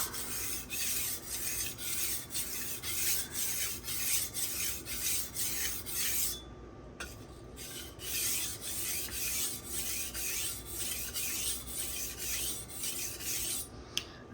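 A BD1 steel knife is worked on a sharpening stone with steady, rhythmic back-and-forth rasping strokes, close up, broken by a brief pause, with no talk.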